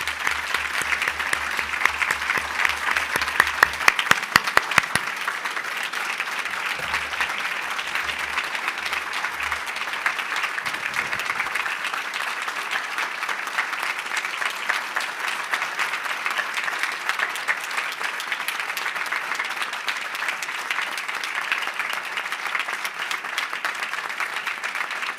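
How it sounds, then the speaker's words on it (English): A large audience applauds steadily and loudly at a talk event honouring Palestinian journalists, the dense clapping sustained without a break, with no talk over it. "Let's please all give them a huge round of applause."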